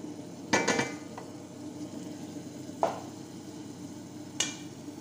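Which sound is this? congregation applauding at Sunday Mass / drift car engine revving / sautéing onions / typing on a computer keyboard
sautéing onions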